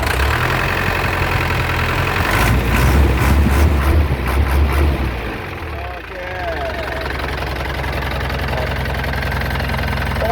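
The diesel engine of an Isuzu NPR115 six-wheel truck idles with a steady low rumble and knock, briefly revving before settling back; a voice talks over it.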